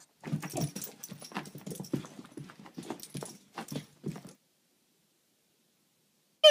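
A dog moving and snuffling close by, with soft panting, breathy sniffs and light scuffling in irregular bursts for about four seconds, then silence, and a short sharp sound at the very end.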